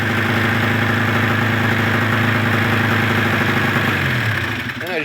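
A 2001 Arctic Cat Sno Pro ZR440 snowmobile engine runs steadily and loudly nearby after fuel system work, a rough, even drone that drops in pitch as it shuts off at the end.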